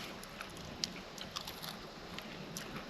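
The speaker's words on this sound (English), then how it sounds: "Got some crunch to it, but it's not burnt." Someone chews crispy, crunchy bacon at a campsite. Soft, irregular crunches sound over steady outdoor background noise, with no talking.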